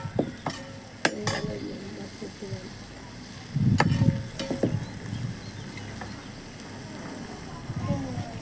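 Mint leaves fry in a pan for chutney with a soft, steady sizzle, broken by sharp clicks of a spoon against the pan and a brief louder hiss as the leaves are stirred in.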